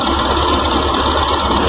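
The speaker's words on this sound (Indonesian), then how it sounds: "nggak apa-apa mesin hidup juga" A car engine idles steadily while its radiator is being flushed, a loud, constant low hum and rumble close to the microphone with no other sounds.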